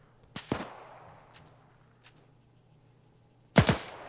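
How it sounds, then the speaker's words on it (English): Sporadic gunfire crackles in the WWII-era Arma 3 video game, with a couple of sharp shots early, then a quiet stretch, then a loud close cluster of shots near the end. "just some sporadic fire"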